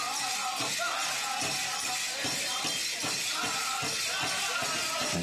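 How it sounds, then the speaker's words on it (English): Metallic jingle cones on women's jingle dresses shake and clink in steady rhythmic pulses as dancers move during a powwow grand entry, bright and continuous amid crowd noise. "The sound of the jingle dress."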